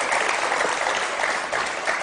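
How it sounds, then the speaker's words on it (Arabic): Studio audience applause on a Tunisian TV show, a short steady burst of dense clapping with no break. "تصفيق"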